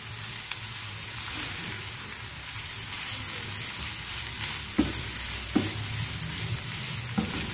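Boiled chicken stirred in a hot pan, a steady sizzling hiss with a few soft scrapes of the spoon later on, close and continuous without talk.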